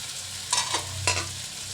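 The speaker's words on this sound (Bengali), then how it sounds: "ডালটা ভাজা হয়ে গেছে," Masoor lentils with chopped green chilies fry in a pan, giving a steady sizzle broken by a few spatula strokes, close and alone.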